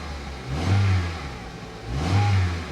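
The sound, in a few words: car engine revving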